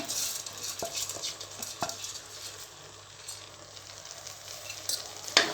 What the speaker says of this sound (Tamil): இதை நல்லா வதக்கி விட்டுக்குவோம்.